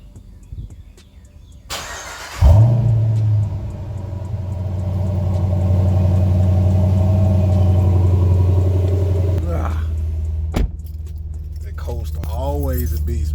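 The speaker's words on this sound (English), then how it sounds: "Let's hit y'all with this cold start and we'll get going." A car fitted with a BBK 85mm throttle body cold-starts with a sharp crank and catch, then settles into a loud, steady high idle that later drops lower; keys jingle beforehand.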